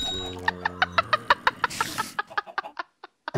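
Chickens trapped in webs cluck in quick, evenly spaced bursts in a video game, clear and close, with a brief rustling noise midway and the clucks thinning out toward the end.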